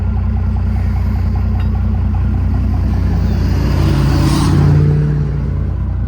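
A car's interior road noise on the way into town: a steady, loud low engine drone and tire rumble that swells slightly near the end before easing off.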